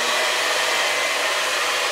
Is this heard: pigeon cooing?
no